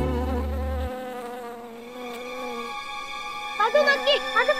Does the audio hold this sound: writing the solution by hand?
no